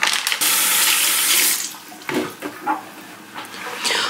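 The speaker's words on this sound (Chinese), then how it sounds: "红枣稍微的冲洗一下" Running tap water pours steadily over red jujube dates being rinsed in a kitchen, a loud continuous gush that eases into splashy, uneven trickles as the dates are moved under the stream.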